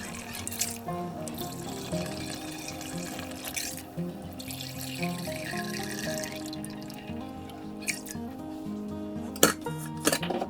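About 1.25 litres of water poured into a pot of half-cooked chicken biryani curry, a steady splashing pour with metal pot clinks and scattered clatter throughout, close by.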